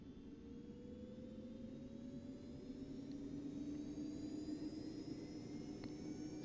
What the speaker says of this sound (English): we can start our APU, so master on, APU start